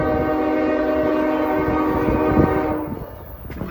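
A southbound CSX freight train sounds a loud, sustained multi-tone horn up close, then the blast cuts off, leaving rumbling rail noise as the train passes.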